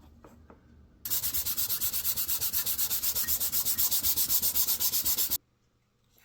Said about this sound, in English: I just want to get it sanded pretty good before I attach them to the base